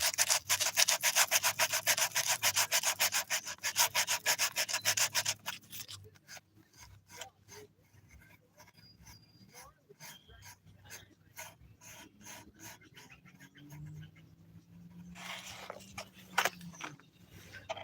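Hand sanding on a handmade wooden violin, a fast rhythmic back-and-forth rasp that is loud and close for several seconds, then continues in lighter, sparser strokes with small handling knocks.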